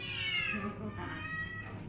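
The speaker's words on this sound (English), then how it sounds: "Look at that cat." A cat gives a drawn-out, wavering meow, loud and close, lasting almost two seconds with a slight rise at the end.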